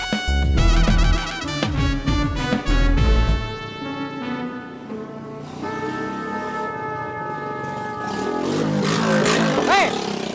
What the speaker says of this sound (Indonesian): Sembarangan banget bawa motor lu ya.